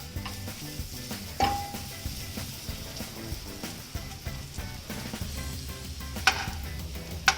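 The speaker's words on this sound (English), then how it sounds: "You have to just fry your onions till they're transparent." Onions sauté in a pan for a vegetable quiche filling, a soft continuous sizzle with occasional utensil scrapes and a light metallic clink, close and moderately quiet with no talk.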